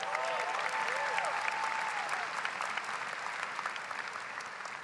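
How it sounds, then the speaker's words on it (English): A commencement crowd gives a sustained round of applause, dense even clapping from a large audience heard from a distance in a big venue, with faint voices mixed in. "That needs a round of applause."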